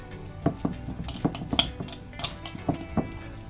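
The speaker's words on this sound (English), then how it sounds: "I'm just going to mix it up a bit, squashing it down." A utensil mixes and squashes butter in a bowl, giving a run of close, irregular clinks and scrapes against the bowl with no talking.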